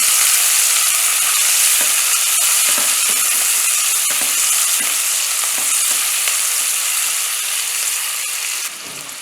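Onions, two medium ones cut up, fry in hot oil in a pan for peas paneer pulao, giving a steady loud sizzle throughout with scattered scraping taps of stirring, and no voices.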